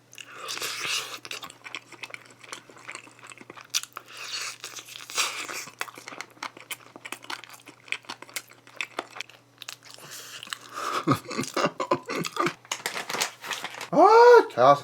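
Crunchy fried chicken with chili mayo is bitten and chewed close up, giving crisp crackling crunches and wet chewing sounds with occasional rustling, and a person speaks toward the end.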